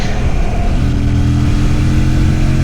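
A motorcycle runs at top speed on an open road, its engine holding a loud, steady mid-pitched roar with constant wind rush and no pauses.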